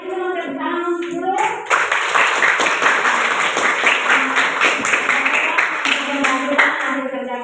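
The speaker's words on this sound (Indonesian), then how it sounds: "Silakan memberikan aplaus untuk kelompok 4" An audience applauds a group after its classroom presentation, with dense, sustained clapping from many hands that follows a short stretch of speech.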